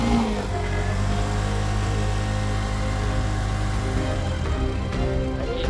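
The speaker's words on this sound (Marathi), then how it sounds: "काहीच नाही निघत नाही, गाडी निघतच नाही." A vehicle stuck in mud, its engine revving hard without pulling free, giving a loud, steady, close drone that holds high throughout.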